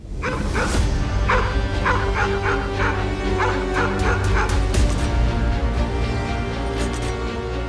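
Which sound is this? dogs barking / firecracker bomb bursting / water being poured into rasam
dogs barking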